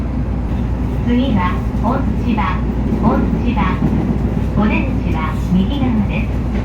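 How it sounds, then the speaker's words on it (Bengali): Steady rumble of a train pulling out of a station in Chiba, Japan, with continuous low mechanical noise and people talking over it throughout. "ট্রেনটা এখন স্টেশন থেকে সেরে যাচ্ছে"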